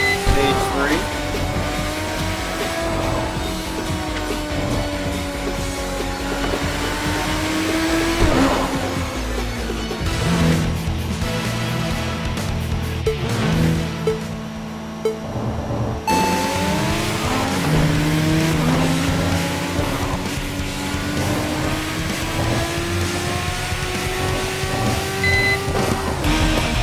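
A racing car in Tokyo Xtreme Racer on the C1 expressway roars at high speed, its engine pitch rising and falling through gear changes, with tire squeal in the corners. Someone talks over it throughout.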